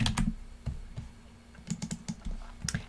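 Typing on a computer keyboard, irregular bursts of close, crisp key clicks with short pauses between clusters, heard alone without talk.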